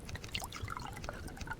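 Water poured into a tank in the survival game Subsistence, a short, steady trickle and splash running close and moderately loud for under two seconds with no talk over it.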